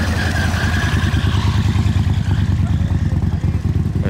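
A loud, close Morgan 3-Wheeler engine with a rapid pulsing throb, like a two-cylinder vehicle idling or pulling away, with a rattly mechanical clatter throughout.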